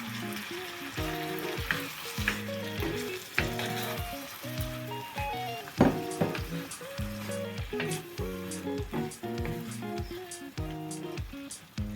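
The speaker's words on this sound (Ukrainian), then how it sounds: "Тепер додаю помідори. Все разом перемішую." Tomatoes and peppers fry and are stirred in a pan for shakshuka, producing a loud, continuous sizzle with repeated scraping stirs. Faint background music plays underneath.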